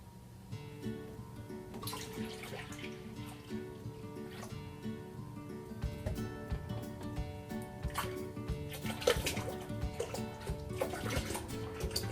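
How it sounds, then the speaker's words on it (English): A whole gallon of milk pours steadily into a crock pot, a continuous gurgling liquid stream that is close and fairly quiet, with no talk over it. "Okay, so the whole gallon of milk goes in."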